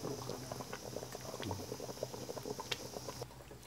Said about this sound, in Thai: กับส่วนหนังส่วนใส่นี่ก็เขาก็ต้มให้มันสุก